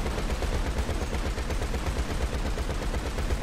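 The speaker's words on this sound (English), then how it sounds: "Get some good shots, Pat." Rapid, sustained gunfire in GTA Online during a Motor Wars match, dense automatic bursts and shots running continuously at close, loud level with no pauses.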